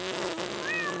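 Cat fight sound effect dropped in during a talk show: a short, strained feline yowl with a rising, wavering cry near the end, loud and close.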